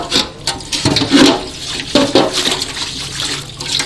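An item being washed under running water in a home kitchen, splashing and gushing in uneven bursts, loud and close, with no talking.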